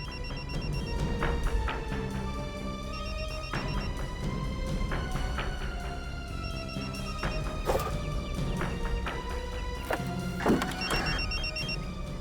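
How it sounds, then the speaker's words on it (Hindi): A mobile phone rings from inside a street post box, repeating a tinny electronic ringtone in regular bursts against a busy background of traffic and other noise. "सर, मोबाइल के बजने की आवाज आ रही है।"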